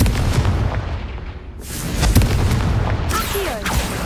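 The Confringo explosion spell cast in Hogwarts Legacy: a dense, rumbling blast with crackling bursts and a whooshing magical swell layered over continuous game noise.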